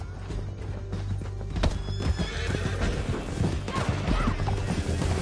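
Hooves clip-clop at a steady gallop over a busy Red Dead Redemption 2 game soundscape, with a horse whinnying partway through and occasional crashing hits.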